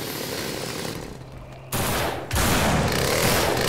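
Gunfire in the zombie shooter game No More Room in Hell, aimed at a gas zombie: rapid bursts of shots, quieter at first, then louder sustained volleys near the end, no talking.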